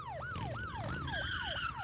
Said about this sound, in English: the wail of siren cuts through the air, followed immediately by a screeching of tires